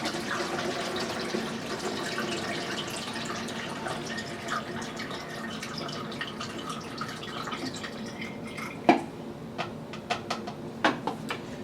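Used film developer pours through a funnel back into its container, a continuous liquid trickle that breaks into scattered drips and splashes near the end, close and without talking.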